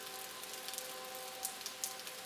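Soft, steady rain with faint scattered droplet ticks over a gentle hum, heard alone and at low volume.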